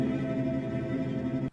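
Sampled cello from an instrument plugin bowing a rapid tremolo on a sustained note, a steady shimmering tone held at even loudness for about a second and a half before cutting off abruptly.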